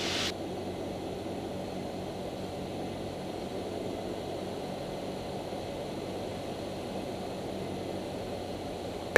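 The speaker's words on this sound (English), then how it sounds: "Start to let the airplane descend a little more." Small training airplane descending on approach to runway 18 at Homestead, with a steady propeller-engine drone and airflow hiss heard continuously from inside, moderately loud and unbroken.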